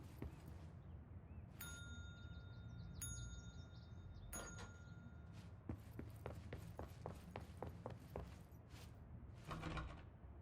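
Bell struck in the video game Control, three clear metallic dings with ringing tones spaced a second or so apart, then a run of clicky mechanical knob-turning taps, quiet overall with no talk.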